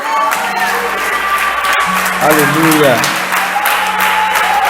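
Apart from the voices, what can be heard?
church congregation applauding for Jesus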